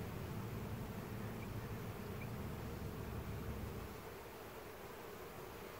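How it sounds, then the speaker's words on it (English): Nurse bees fly around a cell starter hive in a dense, unbroken close buzzing hum that stays steady throughout, with no voices. "That's my nurse bees."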